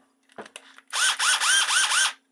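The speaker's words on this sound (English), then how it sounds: "you put that in your handy dandy drill" A power drill whirs in four quick pulses after a few faint clicks, loud and close, with no talking.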